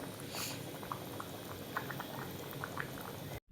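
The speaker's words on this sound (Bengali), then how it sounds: "সেদ্ধ মটরটা দিয়ে আরও একটু জল দিয়ে দিয়েছি। এবার এটা ভালোভাবে ফুটিয়ে নেব।" Ghugni, a curry of boiled peas with extra water added, bubbling steadily in a pot, a continuous close boil with small pops and gurgles that stops abruptly at the end.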